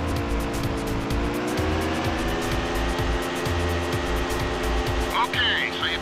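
A light cycle drives in the video game Tron: Evolution, a loud sustained engine whine with a rhythmic low pulsing and a brief electronic chirp near the end.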